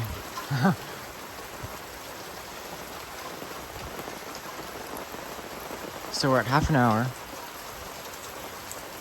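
Steady, dense rain drumming on a surface throughout, with a voice briefly speaking at the start and again near the end.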